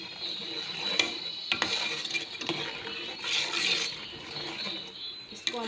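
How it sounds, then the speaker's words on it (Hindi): Ground chili, turmeric and salt are stirred into a masala in a pot for an egg and chickpea curry. A spoon scrapes and clinks quietly against the metal in irregular strokes. "अच्छी तरह मिक्स कर लें आप।"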